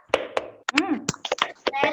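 A class of schoolchildren performs the Tepuk PPK clapping chant, sharp rhythmic hand claps in quick patterned bursts, close and loud, mixed with children's chanted voices between the claps.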